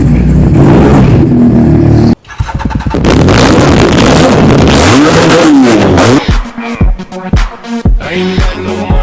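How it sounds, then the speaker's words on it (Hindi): A brand-new motorcycle engine revs hard and repeatedly with the throttle locked, climbing and dropping in pitch, then sputters in short bursts against a limiter, loud and close. "जब हम एक्सीलेटर लॉक करते हैं तो गिंगिंग करती है"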